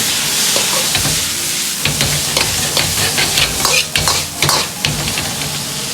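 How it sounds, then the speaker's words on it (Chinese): Celery and pressed tofu stir-fried in a hot wok, with loud, close sizzling and hissing and a busy run of scraping and clanking spatula strokes tossing the food. "炒匀后倒入香干，翻炒均匀。"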